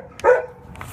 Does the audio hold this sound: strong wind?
no